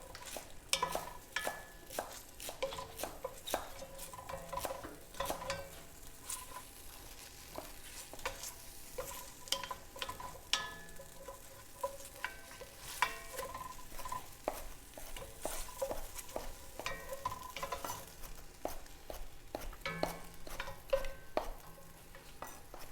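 Butterflied whole chicken sizzles steadily in a hot pan, with a constant fry hiss broken by scattered crackles and the occasional scrape of stirring.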